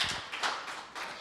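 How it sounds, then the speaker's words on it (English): A brief burst of audience applause at a Silicon Slopes marketing chapter event, a short flurry of claps that swells and fades within about a second. "One more round of applause."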